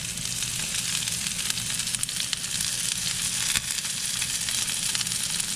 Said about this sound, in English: I'm gonna put some onion and scallion down first